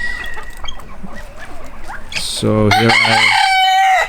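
Chickens in a muddy coop run, with a rooster crowing loudly and close in the last two seconds over softer fowl sounds and someone speaking briefly.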